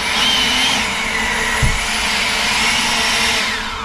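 EGO Power+ LB5800 battery leaf blower running steadily, a loud, continuous electric whoosh of rushing air with a whining motor tone, close and unbroken.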